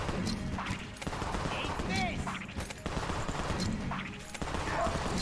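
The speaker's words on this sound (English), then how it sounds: "did you see how fast those shots came out?" Rapid gunfire from the bullet-hell roguelike Enter the Gungeon, a dense stream of shots and impacts layered over constant game sound while someone talks over it.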